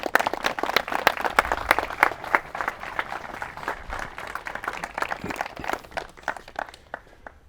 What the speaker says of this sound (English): A round of applause for our couple,